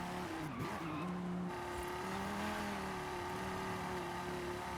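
Car engine droning steadily in Forza Horizon, a racing video game, with a low hum and rising tonal whine running throughout and brief tire scrub near the start, sounding synthetic and continuous.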